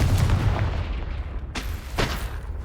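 Fiery Confringo spell blasts from Hogwarts Legacy, a loud booming burst at the start followed by two sharp explosive cracks about half a second apart, with no talking.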